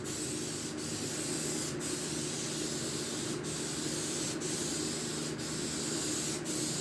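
An aerosol can of spray paint hisses steadily while coating a doghouse and kennel, the close, continuous spray broken by about six short pauses where the nozzle is released.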